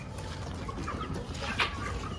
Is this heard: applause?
no